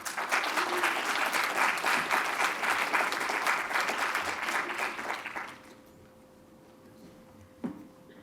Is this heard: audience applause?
yes